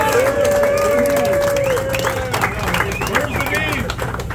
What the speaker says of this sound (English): Let's give a huge round of applause to the guys keeping you well fed this weekend.